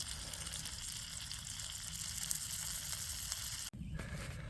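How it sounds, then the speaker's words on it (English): Food sizzles in a pan during rainy camp cooking, a faint steady hiss and crackle that runs throughout, broken by a brief dip near the end. "Still sizzling."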